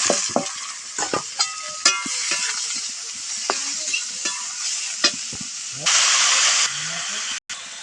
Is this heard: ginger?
yes